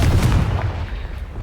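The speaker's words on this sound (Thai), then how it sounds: "ไประเบิดสะพานซะกัน" Confringo blasting spell exploding a bridge in Hogwarts Legacy, a loud booming blast with heavy low rumble that decays steadily over a second and a half.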